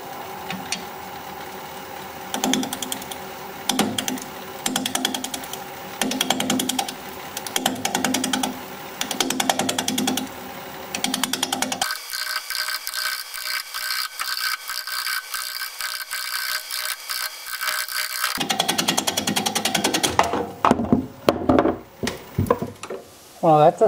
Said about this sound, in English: We're going to be turning at 630 RPM, 5/8 inch bowl gouge, mask and face shield on.